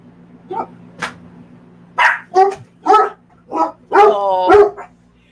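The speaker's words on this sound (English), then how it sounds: "Who are you barking at? They're barking at something." Dogs bark close and loud, a series of about seven sharp barks and yips in an irregular rhythm, alone without any talk.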